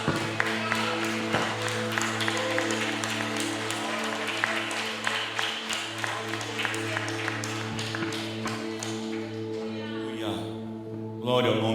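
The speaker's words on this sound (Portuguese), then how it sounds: "Você pode aplaudir Ele então?" Church congregation applauding during an evangelical service, a steady wash of clapping over sustained organ or keyboard chords, with a louder swell near the end.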